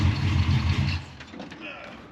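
A 1972 Dodge Dart idles with a loud, deep, hot-rod-like rumble that is strongest at first and then eases, with a voice present.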